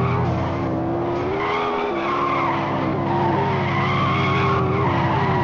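Continuous loud tire skid and engine roar from a car spinning donuts in the Extreme Car Driving Simulator video game, a sustained screeching whine with wavering pitch.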